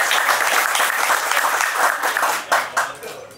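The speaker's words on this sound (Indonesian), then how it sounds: "Tepuk tangan lagi." A crowd applauds loudly and continuously at a Balinese cultural gathering on keris heritage, the dense clapping close and sustained before thinning into a few scattered final claps.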